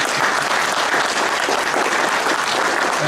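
Audience at a comic convention panel claps for letterer John Workman, a dense, loud burst of crowd applause continuing steadily throughout.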